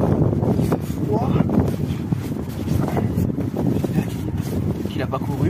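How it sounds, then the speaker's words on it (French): Strong wind blowing outdoors on a cold day during a hide-and-seek game, a continuous loud rumbling roar buffeting close to the microphone without a break. "Écoute, il y a masse vent."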